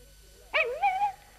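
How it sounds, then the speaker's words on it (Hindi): A puppy in a radio play lets out a single sharp whimpering yelp, then a wavering, drawn-out whine that fades after about a second, heard alone against a quiet background. "ये एक पिल्ला है।"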